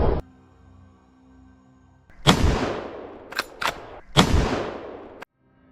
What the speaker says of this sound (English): The gunshot rang out hitting the square.